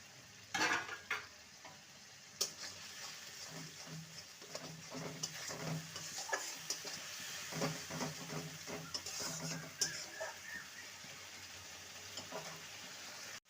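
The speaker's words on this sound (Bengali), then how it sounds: "সমস্ত মশলাকে কষিয়ে নেব" Salt, turmeric, chilli powder, cumin and coriander powder being sautéed and stirred in a pan for a vegetarian ridge gourd and moong dal dish, with soft sizzling and repeated spatula scrapes and clinks throughout.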